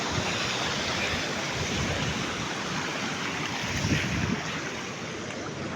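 Steady rushing water of a river at falls near Aravakurichi, Karur, fills the scene, a continuous broadband wash with gentle surges, close and loud, with no voices.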